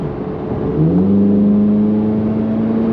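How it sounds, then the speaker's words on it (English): A C8 Corvette Z06 accelerating in sport mode, its engine note rising sharply in pitch and then holding a steady, loud drone from inside the cabin. "Oh yeah, sport mode. It picks up quicker too."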